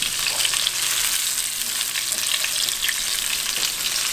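Shrimp fry in a pot for shrimp parmigiana, giving a steady, close hiss and crackle of hot oil that holds evenly without pause and with no talk.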